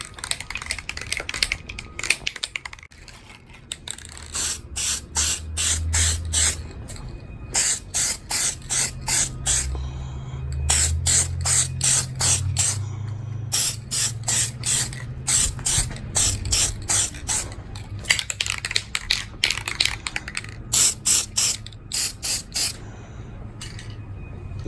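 Aerosol spray paint applied to car exhaust tips in repeated short hissing bursts with brief pauses between them, close and fairly quiet, no talking.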